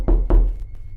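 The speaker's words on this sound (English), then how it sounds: "there was a loud knock at the door" Two heavy, loud thuds on a door in quick succession, followed by a fainter third tap, with a low room hum underneath.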